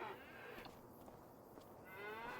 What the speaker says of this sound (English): we've got our big cattle shed here. So we've got some younger calves in here now while the cows are out at the grass.